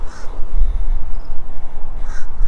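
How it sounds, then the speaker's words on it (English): Two loud crow caws near the start and end, sounding outdoors in a small-town North Carolina neighborhood over a steady background hum. "The crow is up ahead telling me to keep going."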